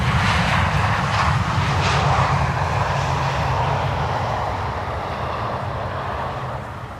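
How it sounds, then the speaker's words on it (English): A KLM Boeing 777 in Orange Pride livery, flight 744 from Lima, lands at Schiphol, its loud steady jet roar with a deep rumble filling the whole stretch and easing off slightly toward the end. "there is a 777 turning in now. That is the Orange Pride."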